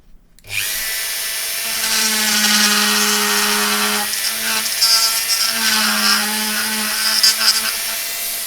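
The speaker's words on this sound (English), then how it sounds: "with the Dremel" A Dremel rotary tool grinds the edges of a Grado SR225e headphone cup, a loud, steady high-pitched whine that dips briefly as pressure changes, with no talking.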